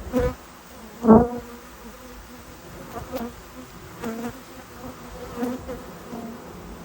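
Honey bees buzz around a hive where the bees hang in clusters, giving a steady close drone with louder swells as individual bees pass near, with no talk.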